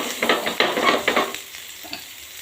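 Paneer cubes fry in butter, making a close, bright sizzle that swells in short bursts as the pieces are turned, then settles into a softer hiss.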